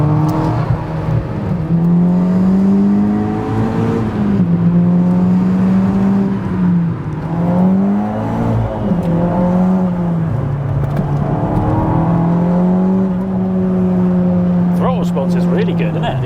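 A 350bhp two-litre swapped all-wheel-drive Seat Ibiza Cupra with KO4 turbo hums and rises through the revs on a country road, loud and steady inside the cabin, while people talk over the engine.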